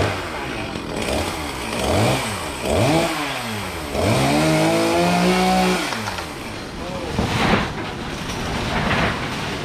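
A chainsaw engine revs up and down in repeated surges while cutting a tree, its pitch rising and falling, loud and close, with a voice talking over it.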